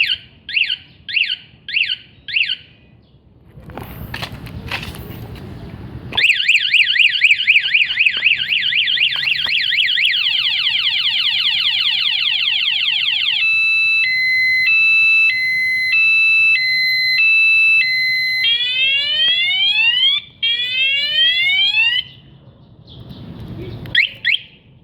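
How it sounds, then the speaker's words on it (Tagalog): Cyclone alarm on a Yamaha Mio i 125 motorcycle blaring loud and close, cycling through short chirps, a rapid warbling siren, alternating two-tone beeps and sweeping whoops, with brief pauses between patterns. "Don't touch me. I am protected by cyclone alarm."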